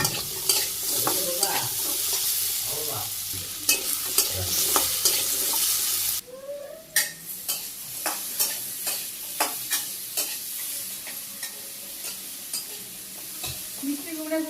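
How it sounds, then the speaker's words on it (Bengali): Sweet pumpkin pieces fry in oil in a pan, a loud close hiss that drops sharply partway through, with regular clinks and scrapes of a spatula turning the pieces throughout. "মিষ্টি কুমড়ো অল্প অল্প করে ভাজি করে উঠে এরকম।"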